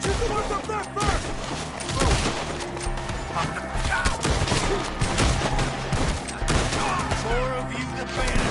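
Gunfire in the Western video game Red Dead Redemption 2 during a shootout with enemies in the trees: dense, repeated gunshots crackle loudly amid shouting voices and hoofbeats.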